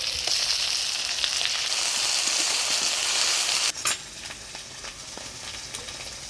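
Garlic, onion and ginger paste for a Bengali village-style fish curry sizzles steadily in hot oil, a loud broadband hiss that drops sharply near the end, leaving quieter crackling.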